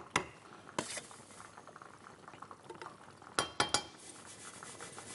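Potatoes lowered into a pot of boiling water for crispy chicken and potatoes, giving a steady bubbling hiss broken by a few sharp clinks and splashes near the start and again toward the end.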